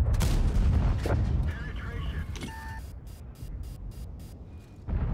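A tank cannon booms loudly in the World of Tanks game, followed by rumbling battle noise, a few short electronic tones and a string of faint rhythmic clicks as the echo fades.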